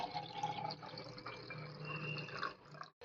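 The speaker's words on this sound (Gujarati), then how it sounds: "એની અંદર આપણે બધું મિક્સ કરી 2 ગ્લાસ ભરીને અંદર આપણે પાણી ઉમેરી દઈશું" Water pours into a glass jar of turmeric for pickling, a soft, faint trickle and splash that runs continuously for a few seconds before stopping abruptly.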